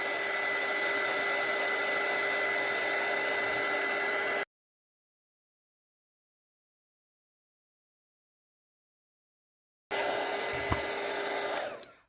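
A small heat gun from a candle making kit blows with a steady whirring hiss and a high whine, cuts to silence midway, then starts again briefly at close range.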